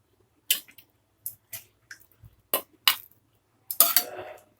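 Sharp metal-on-ceramic clinks of a spoon against a dish while boti gojju is served, about half a dozen separate knocks spread unevenly, the last a brief cluster, close and fairly loud with quiet gaps between.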